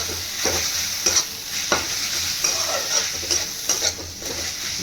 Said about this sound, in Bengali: রসুন আদা দিয়ে একটু কষে নিয়েছি।